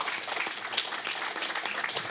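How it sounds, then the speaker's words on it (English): A tech meetup audience claps for an arriving guest speaker, a fairly soft, even wash of many hands heard from a distance, steady across the whole stretch. "big round of applause"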